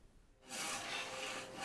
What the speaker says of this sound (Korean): 슬근슬근 나아가는 톱질에 금세 사방 탁자에 올거미 하나가 나옵니다